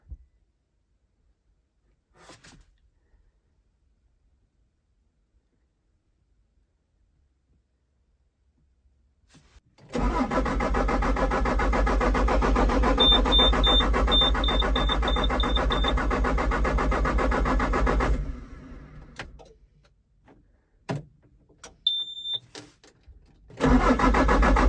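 A car engine cranks for about eight seconds without catching, a loud, steady grinding whir that then cuts off, leaving quiet with a few faint beeps and scattered clunks.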